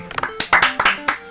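Several sharp hand claps ring out in an uneven sequence, close and fairly loud, with no talking.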